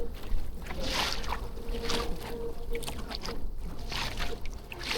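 Water slaps and sloshes against a kayak on a windy lagoon in El Nido, a steady close wash of choppy waves with gusting wind underneath, no talking.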